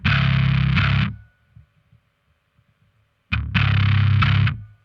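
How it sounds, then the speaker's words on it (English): Two heavy bursts of fuzz-drenched bass guitar, thick and saturated, separated by a couple of seconds of near silence. "The second sound, as you can hear, it is a super distorted bass, but it's not distortion, it's fuzz."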